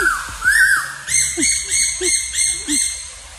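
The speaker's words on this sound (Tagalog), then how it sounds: "Uy, may ibon. Nandiyan sa taas." A bird calls from high overhead near clear water, giving a series of about six harsh, harmonic squawks in a steady rhythm, loud and close, with no talk.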